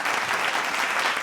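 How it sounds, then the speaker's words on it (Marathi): At the Mukta Sanman 2025 award ceremony, the audience breaks into a short, dense burst of clapping, loud and continuous throughout. "जोरदार टाळ्या मंडळी"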